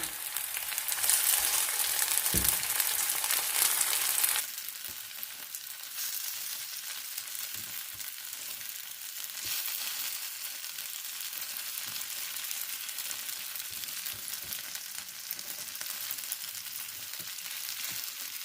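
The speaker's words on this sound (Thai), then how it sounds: "ทอดให้สุกทุกด้านนะคะทอดให้เกรียมทุกด้านเลย" Wild garlic chive cakes frying in hot oil, a bright loud sizzle at first that settles into a steadier, softer crackle with occasional light taps of a utensil, no talking.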